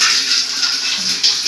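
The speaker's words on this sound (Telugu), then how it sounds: "ఇప్పుడు మనం చేయాల్సిన పని ఏంటంటే హాట్ వాటర్ పట్టడం." Hot water gushes steadily from a bathroom tap, a close, loud, even rushing splash lasting a moment with no pauses.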